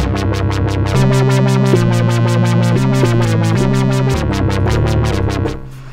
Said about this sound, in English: So a fairly complex kind of bass tone there.